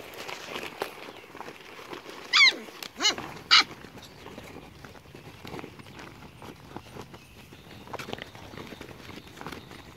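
Puppies bark and yip in a few short, sharp bursts around a tarp set out for socialization, with scattered footsteps and quiet background rustling between the calls.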